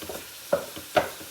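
Sausage sizzles softly in a greased pan, with two quick utensil scrapes over the low crackle.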